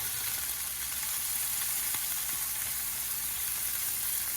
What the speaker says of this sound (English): I think first I'm just gonna like sear it all around the bacon right now